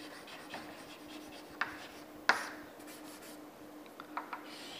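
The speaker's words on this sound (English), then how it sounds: "I will write it here." Writing on a board outdoors during a chain survey on sloping ground, heard as faint, soft scratchy strokes with a couple of sharper taps against a quiet background hum.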